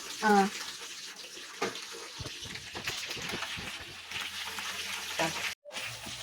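Chicken pakoda bubbles in hot oil with green chillies, a busy close sizzle and watery crackle with scattered clatter and a brief dropout near the end, a voice talking faintly underneath.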